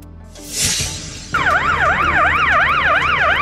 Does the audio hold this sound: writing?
no